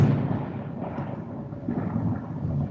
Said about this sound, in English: the thunder, all those what they call this effect, the sound effect.